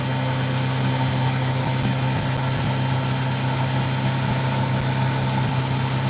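An electric lapidary wheel motor runs for cutting opal, a steady close mechanical hum with a constant low drone and faint grinding texture, unbroken and without voices.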